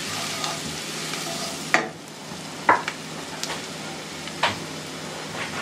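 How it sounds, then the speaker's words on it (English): Curry powder stirred into a pan of softened vegetables for a Jamaican vegan curry goat, with a steady frying sizzle and a few sharp scrapes and clinks of the spoon against the pan, heard close with no voices. "Give that a stir."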